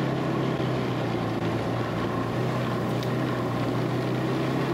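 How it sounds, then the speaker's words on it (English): A Ski-Doo snowmobile engine drones steadily and loudly throughout a ride along a banked winter trail, a constant close mechanical roar with no talk. "this is what it's like to snowmobile"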